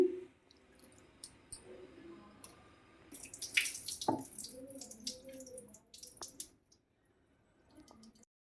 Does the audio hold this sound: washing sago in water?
yes